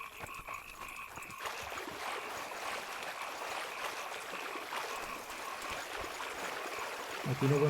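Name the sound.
flowing river in the video game The Witcher 2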